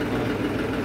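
A Balwan 400 tractor engine idles close by, a steady low diesel throb with an even chugging pulse and no voices over it.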